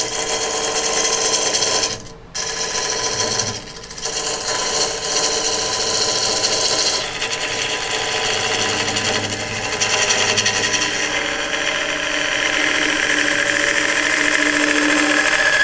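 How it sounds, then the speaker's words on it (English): A wood lathe spins a cracked tree trunk bowl while a tool cuts into it, producing a loud, continuous scraping whir with two brief dips and shifting cutting tones. "Now I have to start whittling down this cone."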